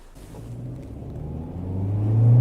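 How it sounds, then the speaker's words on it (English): A 2019 Toyota Corolla Hatchback with a CVT transmission accelerating up to speed, heard from inside the cabin as a low engine drone that steadily swells louder and rises in pitch toward the end. "So you accelerate up to speed."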